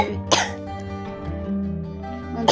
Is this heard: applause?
no